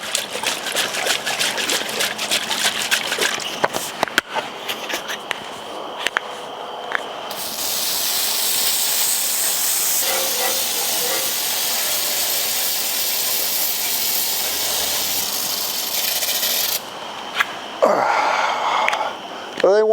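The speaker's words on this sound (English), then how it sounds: "I want to degrease this area, and the degreaser wants it applied to a dry surface, so I'm going to degrease first." Degreaser sprayed onto the body of a 1982 Jeep CJ7, a long loud continuous spray hiss lasting about ten seconds, with brief sprays and handling clatter before it and a short burst at the end.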